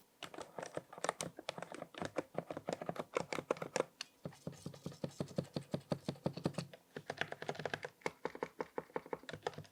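Rapid, steady typing on a Bloody AT98 optical mechanical keyboard with gasket-mount construction, a dense stream of soft, muted key clacks close up, with a short pause midway and no talking.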